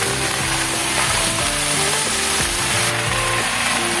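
Pumpkin greens fry in a pan and get stirred, giving a steady, loud sizzle with scraping, close by and unbroken by talk throughout.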